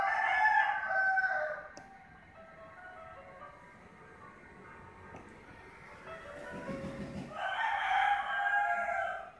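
A rooster crows twice, once at the start and again near the end, with a quieter stretch of background noise between the calls.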